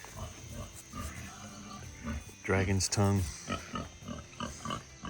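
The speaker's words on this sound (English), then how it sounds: "Hungry pigs in the background." Hungry pigs at feeding time on an off-grid homestead, grunting and squealing in bursts, loudest in a cluster near the middle, heard behind someone speaking in a garden.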